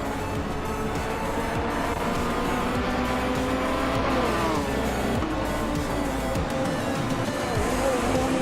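A 2019 Ferrari 488 GT4 race car in a racing game holds a dense, steady engine roar with shifting pitch and faint tire noise, running continuously without any voices.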